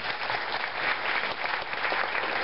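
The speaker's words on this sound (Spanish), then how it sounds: "Vamos a dar un aplauso a ellos," A church congregation claps in sustained, dense applause at a confirmation service, steady and fairly loud throughout with no break.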